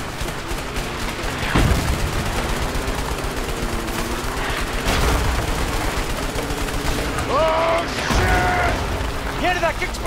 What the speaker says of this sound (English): ¡Qué explosión!